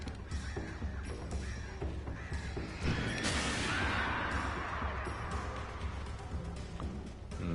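Crows caw harshly in the Alan Wake Remastered game amid a dense, rumbling wash of game noise and a whooshing swell, the calls partly buried in the mix.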